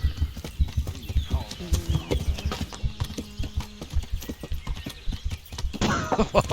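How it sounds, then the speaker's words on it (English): Horse galloping in the medieval game Kingdom Come: Deliverance, a fast run of clip-clopping hooves with a whinny near the end, heard close and loud under a player's excited, shouting speech. "Come on, horse, run!"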